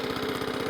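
A Kawasaki FJ100 engine on a Suffolk Punch Atco Allett mower runs with a steady, low, throbbing idle, even and continuous at moderate volume, with no voices.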